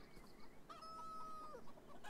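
A rooster crows once in a long, drawn-out call, with soft chicken clucks around it against a quiet background, in the video game Beyond Eyes.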